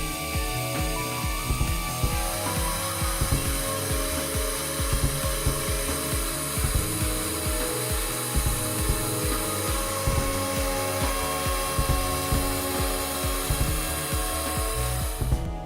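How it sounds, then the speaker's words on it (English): A CNC milling machine cuts wood with a continuous loud, dense grinding and whirring, marked by steady rhythmic pulses from the cutter throughout, with no voices. "allowing CNC milling machines to create products with the desired precision and complexity"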